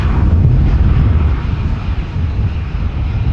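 SunExpress airliner arriving at Amsterdam Schiphol, a close, loud, heavy low rumble of jet engines rolling past with deep throbbing swells over a few seconds.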